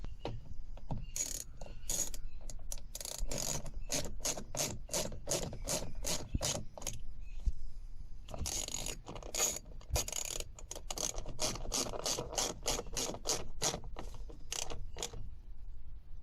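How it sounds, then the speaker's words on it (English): A ratchet screwing bolts into a Smart car wing mirror, long runs of evenly spaced clicks in two sustained passes with a short pause between, close but fairly quiet and without speech. "And then screw in your 2 bolts."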